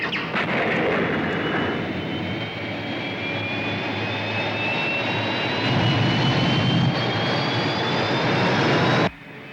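A rescue spaceship's engine roars with a steady, loud jet-like whine and a slowly rising tone for about nine seconds, then cuts off abruptly, with no speech.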